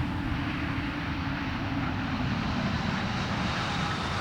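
Space Shuttle Columbia rolls out on the runway after main gear touchdown at a Kennedy Space Center night landing, giving a steady, loud roar of broadband rushing noise that holds evenly throughout.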